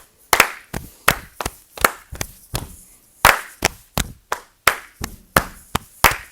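One person clapping hands in a 3rd grade lesson, loud close sharp claps in a steady rhythmic pattern with short pauses between groups.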